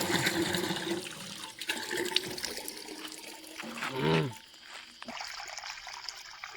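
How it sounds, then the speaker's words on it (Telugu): Water gushes and splashes from a hand pump at a hillside spot where water is set out for birds in summer, with uneven surges of flow and trickling and a brief gurgling burst partway through. "ఇట్లా కొట్టంగానే వాటర్ వస్తున్నాయి"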